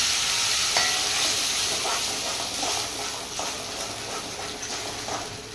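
Steady loud sizzling and hissing as ground paneer butter masala gravy fries in a hot pan, a continuous frying sound with faint stirring clinks, no voices.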